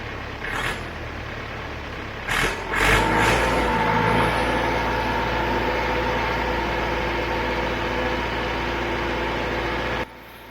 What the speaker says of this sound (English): Raise the idle and start welding.